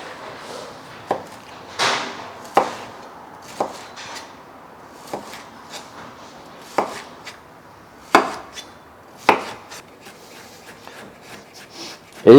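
A sharp knife chops food on a cutting board in about a dozen crisp, separate strikes at an uneven, unhurried pace, close up and clear against a quiet background.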